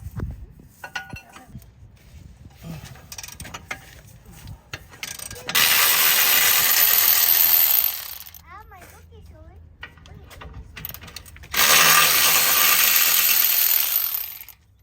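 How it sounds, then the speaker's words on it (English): A breaker bar ratchets and clicks while nuts are loosened on a 2020–2024 Kia Telluride passenger-side CV axle, with close mechanical clinks and metallic clatter, broken by two longer bursts of loud broadband noise. "So I'm gonna use a breaker bar."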